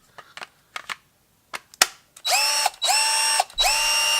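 A TackLife 20V cordless drill runs at speed 1: a few sharp clicks, then three close bursts of high, even motor whine with short gaps between them.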